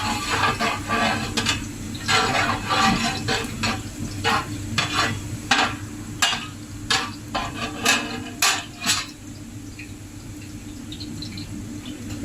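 Boiled mixed lentils for dal makhani are stirred in a hot pan, with repeated scraping strokes and light knocks of the spoon over a steady low sizzle that gradually thin out toward the end.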